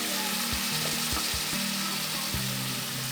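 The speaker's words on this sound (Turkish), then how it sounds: "sacımın yanmaması için şöyle kaşığım yardımıyla hafiften su ekliyorum" Water is spooned onto a hot sac pan over a wood fire while meat and onions cook, giving a dense, continuous close sizzle with a few soft knocks and scrapes of the spoon.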